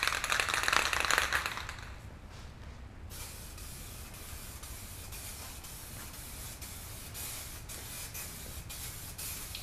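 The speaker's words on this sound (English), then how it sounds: "Spray in a crosshatch pattern to get the best coverage" A spray gun lays metallic car paint onto a Porsche 944, giving a loud hissing burst at first, then a steadier, quieter spray hiss that runs on alone.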